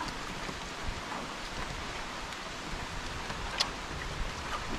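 Steady rain falling, a continuous broadband hiss with occasional louder drops, no voices.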